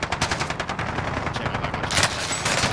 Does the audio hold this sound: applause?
no